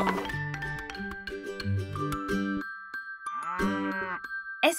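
A cartoon cow gives a long, loud, tuneful moo near the end, following bright cartoon music with bell-like tones and no talking.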